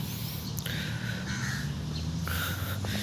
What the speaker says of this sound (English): There is so many birds, I'm actually kind of afraid right now that one might attack